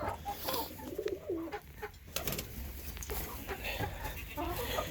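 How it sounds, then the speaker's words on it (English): Hens cluck and murmur in a busy coop, a steady low chorus of soft clucks with occasional sharper calls, fairly close and continuous. "These are the chickens today."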